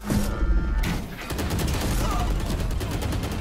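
A grenade blast in Valorant: a loud, sharp explosive burst near the start, then a dense crackling rumble of debris and ongoing gunfire that fills the rest of the clip.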